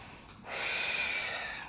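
A single long, airy breath drawn during a yoga pose, starting softly and swelling into a steady, close breath sound.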